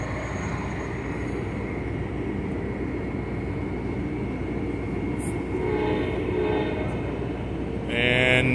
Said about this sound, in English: That train just blew my pizza box open.